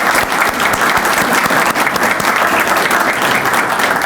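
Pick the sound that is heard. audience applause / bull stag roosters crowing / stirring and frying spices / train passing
audience applause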